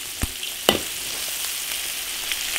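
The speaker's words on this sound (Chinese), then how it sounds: "把肉炒香。 肉炒香了，下辣椒" Pork and chili peppers stir-frying in an iron wok give a steady, close sizzle, broken by a couple of sharp spatula scrapes early on, with no voices.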